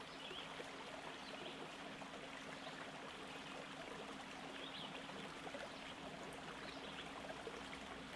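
A shallow river about half a metre deep flows in a continuous soft, even rush of water with a faint trickling texture, steady throughout and heard from nearby.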